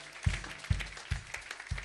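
A church congregation claps in a steady rhythm to acclaim Jesus, the claps thumping about twice a second over a loud, dense crowd wash with no clear speech.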